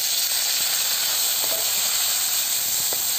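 Tomato goes into hot oil already cooking with chilli and onion, producing a loud, constant close-up hiss of sizzling with a few faint clinks over the top.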